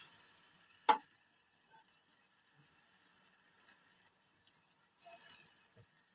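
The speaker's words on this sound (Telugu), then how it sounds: "ఇదంతా కలిసే విధంగా కలుపుకోవాలి" Food is stirred and mixed in a pan, with a single sharp utensil clack near the start and another softer knock later over a faint, steady sizzle-like hiss.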